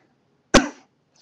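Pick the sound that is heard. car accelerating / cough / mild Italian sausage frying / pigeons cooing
cough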